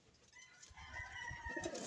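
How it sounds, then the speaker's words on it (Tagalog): Soft, low pigeon cooing close by, a continuous murmuring call rising slightly in loudness over a couple of seconds. "So guys, ang ibon natin."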